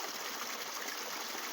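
Water from a village fountain in the hills of Baldher flows steadily, a close, even rushing splash with no pauses or voices.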